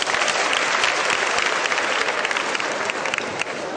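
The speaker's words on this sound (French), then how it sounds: "Applaudissez pour les femmes." An audience at a French-speaking gathering breaks into dense, continuous applause for the women, loud and close, a thick wash of many hands clapping with no pause.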